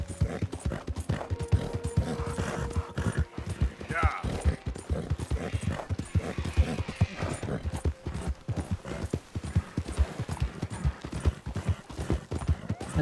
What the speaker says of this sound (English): W to maintain the horse canter